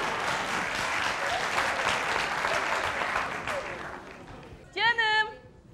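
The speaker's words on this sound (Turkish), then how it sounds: "Hadi siz de alkışlayın." Studio audience applauding on a Turkish TV variety show, a dense sustained wash of clapping that fades out after about four seconds, followed by a brief burst of voice.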